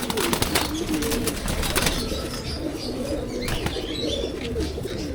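Pigeons coo softly nearby as wings flap in quick bursts, with a low murmur of rustling throughout, including a young pigeon.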